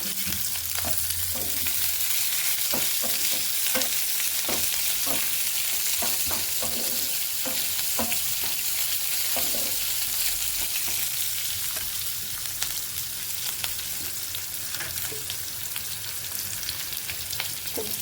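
Dried red chilies and curry leaves frying in oil in a pan while Telugu-style goruchikkudu fry is cooked: a continuous loud sizzle with repeated scraping stir strokes, no talking.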